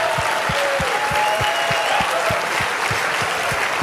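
Church congregation applauding together, a dense, even wash of many hands clapping with a steady rhythmic beat of synchronized claps running through, sustained without break.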